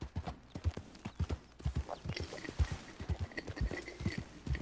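In Red Dead Redemption II, a horse agitated by a nearby predator stamps and shifts its hooves in an irregular clip-clop and gives faint neighs and snorts, close by.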